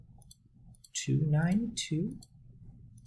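Soft clicks of calculator keys being pressed while data is entered, faint taps at the start and end with a voice reading out a number in between.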